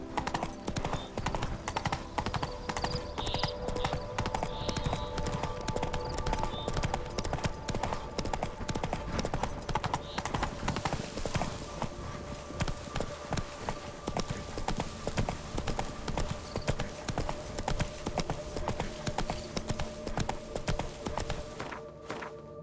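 Horse hooves clip-clop in The Witcher 3 video game, a steady, even rhythm of hoof strikes close up and continuing throughout, with faint ambient game sound beneath.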